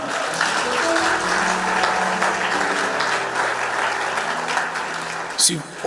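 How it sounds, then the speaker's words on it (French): Applause and cheering from a church conference audience, a dense continuous clapping wash with voices mixed in, steady and fairly loud throughout, ending with a brief louder burst. "acclamez d'abord pour vous-même"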